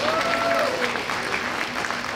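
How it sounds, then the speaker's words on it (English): An audience in a hall at an evening gathering applauds itself with a short burst of dense clapping, some voices and a whistle-like tone mixed in. "Give yourselves a round of applause"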